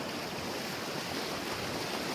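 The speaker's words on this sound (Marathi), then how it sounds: "किती पाणी वाहत आहे" Knee-deep stream water flowing strongly: a steady, broadband rushing wash, fairly faint and unbroken, with no voices over it.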